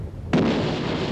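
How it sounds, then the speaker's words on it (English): Coastal defence artillery opens fire on the German cruiser Emden off Madras, a single sudden heavy boom followed by a long rumbling roar, loud and with no talking. "The coastal defences open fire,"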